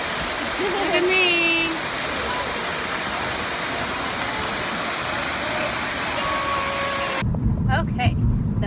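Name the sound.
waterfall pool at Fort Walton Beach hotel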